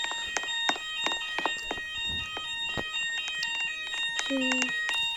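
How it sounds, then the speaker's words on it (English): A fire alarm rings continuously with rapid metallic strikes over a steady tone, while a brief voice sounds partway through. "The fire alarm started."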